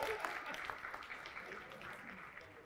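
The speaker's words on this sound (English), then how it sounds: "Can we just have a quick round of applause for everybody," Quick round of applause from a room of participants at a creative-ideas workshop at the Barbican, a faint, even patter of many hands clapping, heard at a distance throughout.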